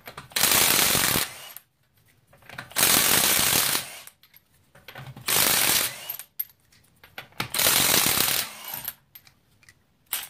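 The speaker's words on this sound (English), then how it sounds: "Now I am using the stubby Milwaukee gun" Stubby Milwaukee impact gun removing torqued lug nuts, four loud bursts of rapid hammering, each about a second long, separated by short quiet gaps.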